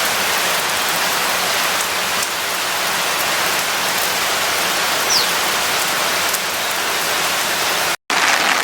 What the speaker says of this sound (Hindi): सारा दिन ही आज बारिश होती रही, कभी थोड़ी ज़्यादा कभी थोड़ी कम,